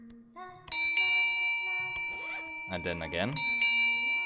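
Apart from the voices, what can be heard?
bell ringing in the video game The Padre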